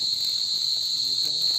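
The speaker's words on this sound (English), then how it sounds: "it's cicada." Tethered cicada on a string ringing with a steady, bright high-pitched buzz that holds throughout, fairly close and alone with no talk over it.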